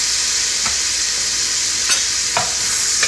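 Frozen chopped onion, about half an onion, sautéing in melted butter in a soup pot, a steady broadband sizzle with a few soft stirring knocks, close and unbroken.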